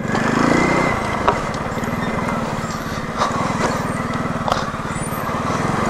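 A motorcycle engine chugs steadily at low speed on a bumpy road into La Trinidad dam in Iriga City, with a few sharp knocks from the rough surface and no talk.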